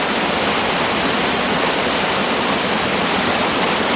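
Strong stream water at a fishing spot rushes in a loud, steady, close roar with no pause, drowning out any other sound.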